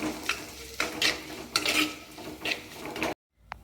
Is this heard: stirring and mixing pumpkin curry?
yes